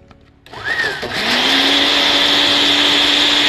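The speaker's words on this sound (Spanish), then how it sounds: "Vamos a licuar eso perfectamente." A kitchen blender whirs steadily as it purées cilantro and a garlic clove into a Peruvian ceviche marinade, spinning up after a brief start and then holding a loud, continuous high-pitched drone with no talking.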